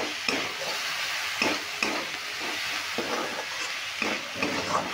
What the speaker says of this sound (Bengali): এইভাবে নাড়তে নাড়তে এগুলো ভাজাও হয়ে যাবে আর সেদ্ধও হয়ে যাবে।